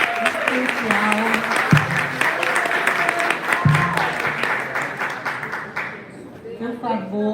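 Warm applause from a conference audience at a state meeting of school supervisors, a crowded clatter of clapping with speech and voices mixed in, fading near the end as talk continues.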